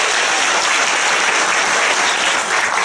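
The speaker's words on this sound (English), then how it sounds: "So a big round of applause for Singapore." An audience at a business training seminar breaks into loud, sustained applause, a thick wash of clapping from a large room filling the whole moment.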